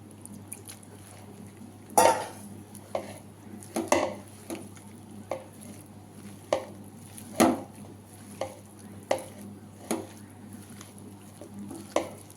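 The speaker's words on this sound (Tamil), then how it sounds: "இதை நல்லா பிசையணும், அப்போ தான் அந்த உப்பெல்லாம் சேரும்." Mushroom manchurian mixture being kneaded by hand after water is added, a series of wet squelching and slapping pushes at a steady irregular rhythm, close and fairly quiet with no talk.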